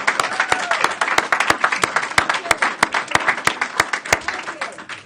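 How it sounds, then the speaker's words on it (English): City council meeting audience applauding after an ordinance passes, a dense burst of clapping from a room of people that holds steady for several seconds with sharp individual hand claps standing out. "Now you can clap"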